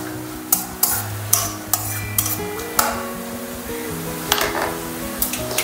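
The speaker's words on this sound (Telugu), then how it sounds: "ఇప్పుడు ఇందులో కొన్ని గ్రౌండ్ నట్స్, అలాగే పచ్చిశనగపప్పు, మినప్పప్పు, ఆవాలు వేసుకుని వేయించుకోవాలి." Peanuts, chana dal, urad dal and mustard seeds frying in a pan for breakfast, with soft crackling under sharp periodic clinks of a ladle against the pan, close and moderately loud, and no talking.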